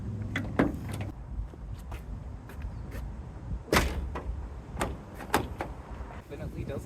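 A junkyard car door with freshly fixed hinges swings and shuts with sharp knocks and clunks, several distinct impacts spread over a few seconds amid background noise and some talking.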